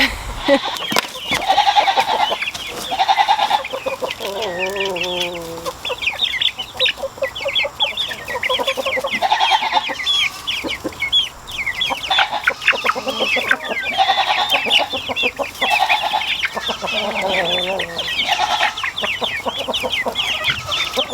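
Chickens and young chicks clucking on a farm: a continuous, busy chorus of close clucks and chirps with rising calls throughout.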